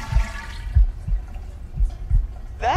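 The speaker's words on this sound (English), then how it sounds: "There's the toilet flush." Toilet flushing inside a VR video game, a burst of gurgling water with soft thumping pulses, followed by a rising whoosh at the end.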